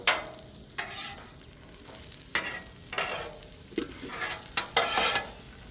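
Fries frying in hot oil with a little extra oil added, giving bursts of sizzling and stirring that swell and fade in waves, close and moderately loud with no talking.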